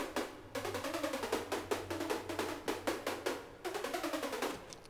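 A soloed synth effect layer from Surge XT plays alone, a dense run of rapid percussive pulses with sweeping, wavering tones rising and falling over a steady low drone.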